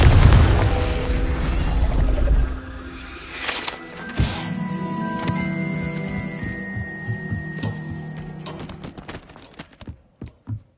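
Confringo blasting spell explosions in Hogwarts Legacy, with a heavy boom opening the clip, further sharp bursts and impacts after it, and a musical score playing underneath until it fades near the end.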